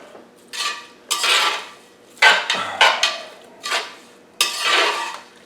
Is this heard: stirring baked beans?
yes